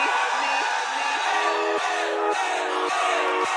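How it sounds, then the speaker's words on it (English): A crowd cheering sound effect sits in the background of a music production, a steady wash of whoops and yells blended under sustained electronic tones, loud and continuous throughout. "I do have some sound effects in the background that are like a crowd"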